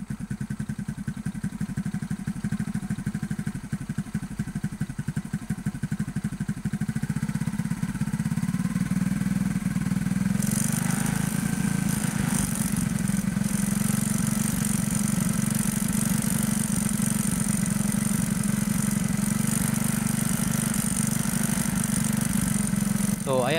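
A motorcycle engine idles steadily throughout while its carburetor, an air-screw type, is being tuned; the low rumble holds at a constant loud level with a shift in tone midway, and no voices are heard over it.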